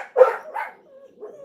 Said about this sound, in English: My wee dog has to run outside to find the barking dog.